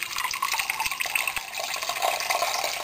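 Boiled water pours from a kettle over coffee grounds in a filter set on a mug, a steady close splashing trickle with no talking.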